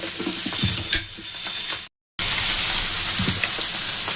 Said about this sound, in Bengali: নিয়ে এগুলোকে এখন মিক্সিতে আমি গুঁড়ো করে নেব